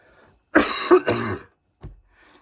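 A single throaty cough, harsh and close, lasting about a second, followed by a short faint catch of breath; otherwise quiet.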